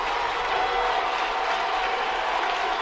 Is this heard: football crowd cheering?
yes